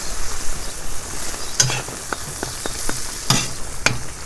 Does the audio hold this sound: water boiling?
yes